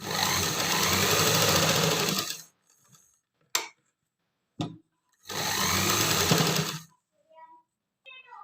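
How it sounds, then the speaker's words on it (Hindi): A sewing machine stitches a palazzo pant pocket in two close, steady whirring runs of a few seconds each, separated by near silence with a couple of sharp clicks and faint handling noises. "और अब इसकी सिलाई स्टार्ट कर दूँगी यहाँ तक। और चारों ओर मैं इसने सिल दूँगी।"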